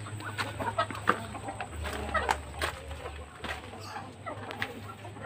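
Native chickens cluck and murmur close by alongside Muscovy ducks in a backyard coop, soft irregular calls scattered over a low steady hum, with no talking.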